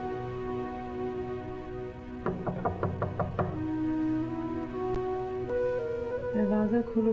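Five or six rapid knocks rap sharply on a door in a tight burst, set against a steady dramatic tonal underscore that swells afterward.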